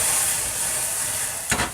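Pork frying in a hot pan gives a loud continuous sizzle and hiss, then a sharp hissing flare as cheongju rice wine is splashed in near the end, close and without talk.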